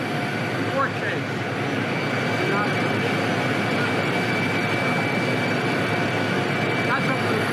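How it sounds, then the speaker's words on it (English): A helicopter runs in the background outdoors at a press gaggle with the US president, a steady loud whooshing engine roar that never lets up, while voices talk over it. "behind the sound of the chopper blades going in the background there"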